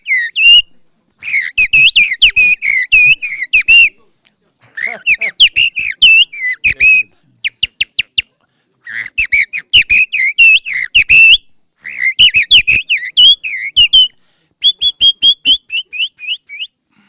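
Man whistling birdsong imitations, loud and close, in rapid warbling trills and chirping phrases separated by brief pauses.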